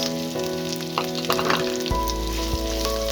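Onion and garlic paste frying in oil crackle and sizzle close up, with bursts of stirring and spatter over a steady hum of kitchen background noise, no voices.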